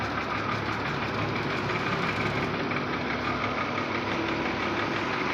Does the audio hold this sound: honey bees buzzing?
no